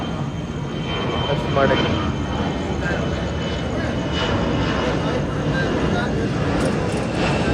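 A passing airplane droning steadily overhead on a foggy morning near a train, its broad roar swelling slightly and holding while someone speaks briefly.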